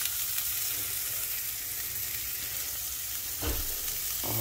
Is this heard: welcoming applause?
no